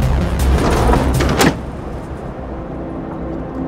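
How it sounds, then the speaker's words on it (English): A car door shuts with a solid thump about a second and a half in, after a burst of close rustling and movement, leaving a quieter vehicle interior hum. "Close the door and buckle up."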